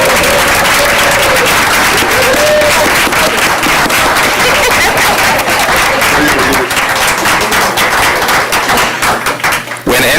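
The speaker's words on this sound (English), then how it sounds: "Let's give her a big round of applause." Big round of applause at a school board meeting for an elementary school employee of the year, loud dense clapping from a full room that keeps up evenly with a few voices underneath.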